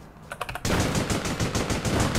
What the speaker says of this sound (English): I'm not sure who he is shooting at.